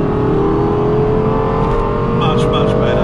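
A Lexus LFA engine drones loud and steady from inside the car at speed, a sustained rising hum with road noise and a brief higher whine near the end, while people talk over it.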